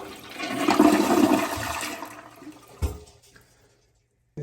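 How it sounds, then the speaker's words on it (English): A Kohler toilet flushes with a loud, close rush of swirling water that fades out over about three seconds, followed by a brief thud and then quiet. "So I'm just gonna go ahead and make a flush."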